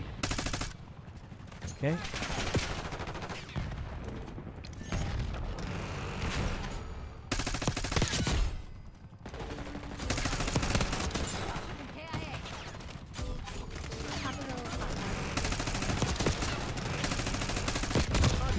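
Gunfire in the video game Call of Duty: Black Ops 6, with repeated loud bursts of automatic fire and shots throughout, and a voice talking briefly in between.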